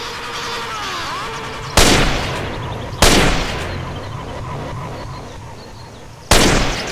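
Weapon-mod gunshots in the video game GTA San Andreas: three sharp, loud blasts spaced a few seconds apart, each with a short rumbling decay, over a steady background of game noise.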